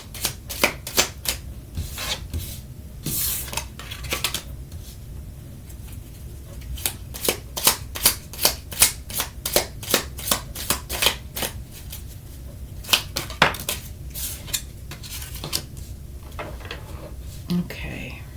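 Lenormand cards being shuffled by hand at a reading, giving repeated close riffling and rubbing bursts in uneven rhythm, with a voice speaking softly underneath.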